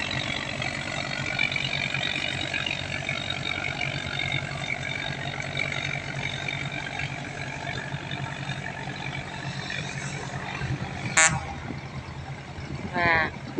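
A cargo barge carrying dry goods on a river in the Mekong region, running on a single engine: a loud, continuous low drone throughout, with a brief horn-like toot near the end.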